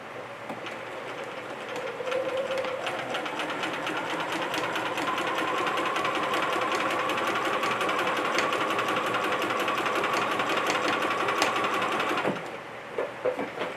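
A sewing machine runs steadily while stay stitching fabric from the shoulder toward the center, a fast, even mechanical whir that holds for about ten seconds before stopping with a few faint clicks.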